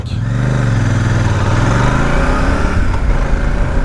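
Royal Enfield Super Meteor 650 motorcycle pulling away from a standstill, its twin-cylinder engine droning steadily and close, the pitch rising gently as it gathers speed, with no talk over it.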